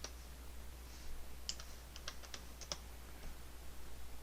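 A handful of quick, faint computer keyboard clicks as a numeric value is typed in during 3D modeling software work, loose taps bunched in the middle over a quiet low hum.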